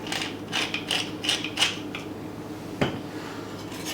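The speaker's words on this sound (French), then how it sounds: "Et un tour de moulin à poivre." A hand-turned pepper mill grinds with a series of short, dry mechanical ratcheting crunches, close and fairly quiet, in a kitchen setting.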